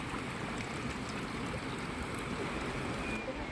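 Water from a reservoir channelled into a watermill on Flores, a steady broadband rush and burble of flowing water, continuous and fairly close, with no voices.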